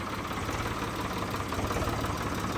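A Ford 3600 tractor engine idles steadily with a low, knocking rumble and vibration, continuous and close, with no voices.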